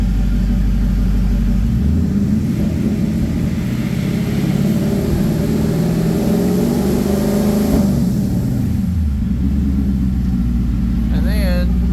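A 1970 Ford Mustang engine after a body swap, with the starter jumped, runs as a loud low rumble close by for most of the stretch, then dies down toward the end while someone talks over it.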